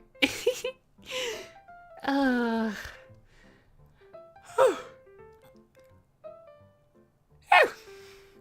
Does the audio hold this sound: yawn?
yes